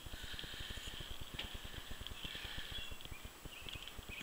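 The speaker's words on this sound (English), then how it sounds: "you can feed and pet the draft horses" A draft horse walks nearby at a flea market. Its hooves give a quick, regular clip-clop that stays fairly faint and steady throughout.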